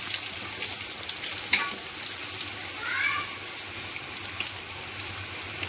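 Potatoes frying red-brown in hot oil for Kashmiri aloo dum, a steady low sizzle throughout with a few soft clinks and stirring noises, close and fairly quiet.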